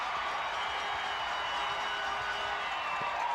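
An arena crowd at a 1985 Mid-South Wrestling match roars in a steady, distant wash of noise with scattered clapping and cheers, without a break.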